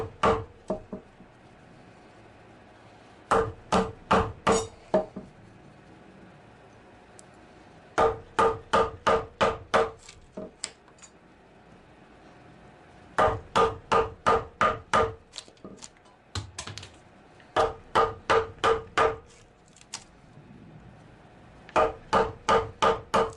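A chisel is struck with repeated sharp knocks while building a wooden workbench, the blows landing in fast rhythmic bursts of five to eight hits separated by short pauses, close and crisp.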